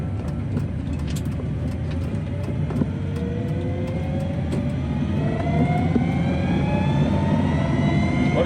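A classic 1975 Volvo 164 converted to electric power whines upward in pitch as its motor speeds toward 3,000 RPM, rising tones layered over steady road rumble from inside the car.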